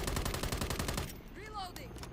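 Rapid automatic gunfire from the video game Modern Warfare 3 hammers in loud, dense bursts for about a second, then drops away to quieter game sounds with a brief voice-like trace.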